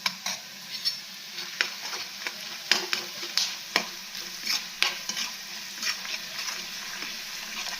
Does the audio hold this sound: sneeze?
no